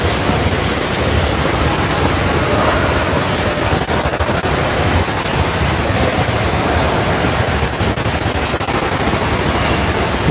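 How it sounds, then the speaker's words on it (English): Steady, loud splashing of a Halloween-decorated outdoor water feature, a continuous broadband rush of falling water that fills the whole stretch without pause. "we'll show you guys a beautiful water feature here"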